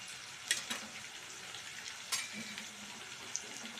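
Potatoes frying in a pan for aloo curry, with a soft steady sizzle and a few faint stirring clicks, close and quiet, with no talk.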